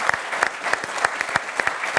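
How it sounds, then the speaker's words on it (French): Studio audience of a televised football talk show claps, a fairly small group producing distinct, slightly irregular hand claps in a quick steady rhythm at moderate level. "Je vous demande d'applaudir Julien pour sa première."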